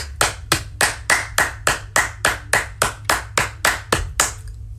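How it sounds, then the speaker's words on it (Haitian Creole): A group applauds in crisp, evenly spaced claps, about three per second, loud and close, with no talking. "Bat bravo pour la jeunesse."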